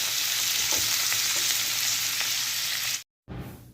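Steady, bright sizzling of onions frying in hot oil, close and loud, with faint stirring scrapes, then a brief cut to silence before the sizzle resumes.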